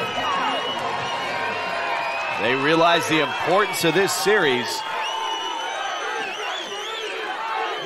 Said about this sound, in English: This crowd coming to life.